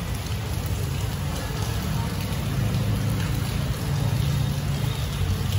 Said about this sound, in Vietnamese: bây giờ mưa cũng đang tạnh rồi